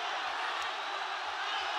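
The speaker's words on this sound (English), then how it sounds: "The crowd absolutely baying for this fight to finish." An arena crowd at an MMA fight involving Aung La N Sang roars in a dense, steady wash of noise that holds loud and unbroken throughout, with a few low thumps underneath.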